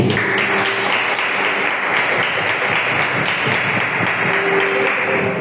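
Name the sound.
church congregation applauding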